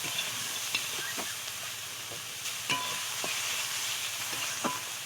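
Prawns seasoned with salt and turmeric frying in a little oil, a continuous close sizzle broken by several scattered clicks and scrapes of stirring.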